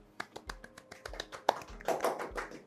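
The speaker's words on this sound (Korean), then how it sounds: "박수 부탁드립니다" A small audience gives scattered, uneven handclaps to welcome an Adobe Korea presenter at a partner webinar. Sparse claps at first grow into a denser burst before trailing off, close and moderately loud.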